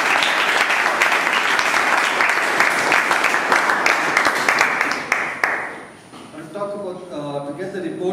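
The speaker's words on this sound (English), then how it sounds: "A big round of applause to the table topic master." Audience applause at a Toastmasters-style club meeting for the table topics master, steady dense clapping for about six seconds that fades out, followed by a voice speaking.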